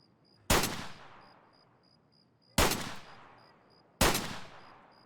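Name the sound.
gunfire in the video game Escape From Tarkov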